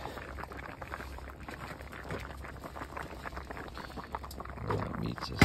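A meat stew with potatoes and carrots simmers in a pot at a cold November hunting camp, giving a soft, steady bubbling close by, with a few louder pops near the end.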